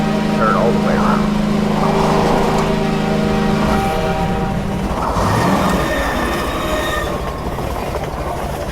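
A train thunders past in the Half-Life 2 video game, with a loud sustained horn blaring over steady rail rumble and clatter, then grinding wheel noise as the cars roll by, up close and continuous throughout.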